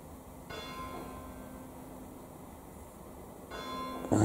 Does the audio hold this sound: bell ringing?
yes